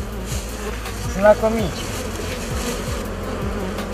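A swarm of honeybees, a new young colony, buzzing in a loud, dense, continuous drone with individual bees whirring close by, while someone speaks briefly.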